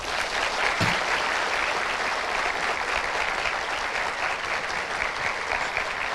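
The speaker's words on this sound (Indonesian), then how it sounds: "Berikan tepuk tangan yang meriah untuk Angga Fauzan." A studio audience at a campus talk show applauds to welcome a guest, loud sustained clapping filling the room from start to finish, with faint crowd murmur beneath.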